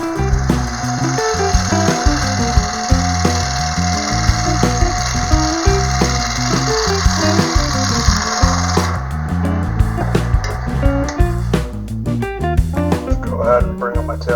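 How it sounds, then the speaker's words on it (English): A low-fluted spindle gouge roughing a wood blank on a lathe for a mini hollow form, with a loud, continuous motor drone under rhythmic knocking and chattering cuts that give way to sharper, broken tapping near the end. "I'm just going to rough this in and get around with my low fluted spindle gouge"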